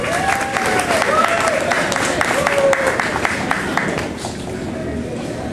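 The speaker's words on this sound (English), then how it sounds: "Let's give them a round of applause." Applause at a high school athletic banquet, a full crowd clapping steadily for several seconds with voices over it, tapering off toward the end.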